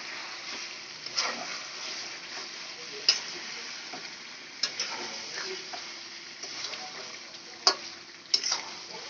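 Chicken curry spices being stirred in a hot pan: a soft, continuous sizzle with scattered scraping clicks of the spoon against the pan, fairly quiet and close, with no talking.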